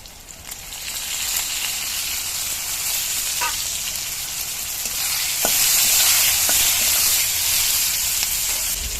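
Eggplant sizzles steadily in a hot pan, a continuous bright hiss with occasional scraping stirs and sharp crackles, growing louder toward the end.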